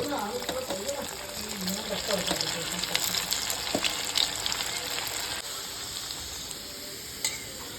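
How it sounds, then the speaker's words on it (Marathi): Sliced pieces frying in a pan, continuous crackling sizzle with occasional stirring and clinking of utensils, while someone talks over it. "काप चिरून घेतलेले आहे तळायला टाकायचं"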